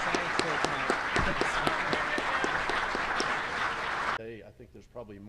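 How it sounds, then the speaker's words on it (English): Audience applauding panelists at the Goddard Memorial Symposium on space policy, a dense, steady round of clapping in a hall that stops abruptly near the end as a speaker begins talking. "So I ask if we give our panelists a nice round of applause."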